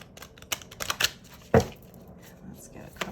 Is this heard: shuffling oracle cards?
yes